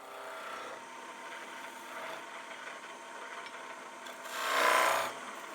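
A gouge shaves a wooden spindle turning on a Shopsmith Mark 7 lathe, making a soft, continuous scraping hiss that swells briefly louder near the end. It sounds fairly faint, with no voices.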